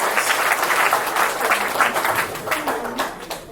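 Audience at a dance studio recital clapping to open the event, a full steady burst of many hands with a faint murmur of voices beneath, sustained throughout.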